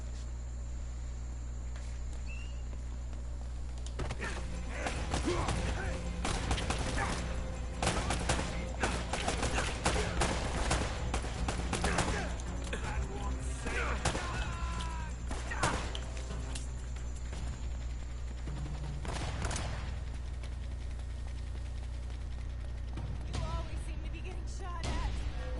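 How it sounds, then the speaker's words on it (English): Gunfire aimed at the player in Uncharted: Drake's Fortune, with scattered bursts and rapid volleys of shots at mid distance, irregular and clustered, over a steady low background hum with no clear talk. "They're shooting at you too, you know."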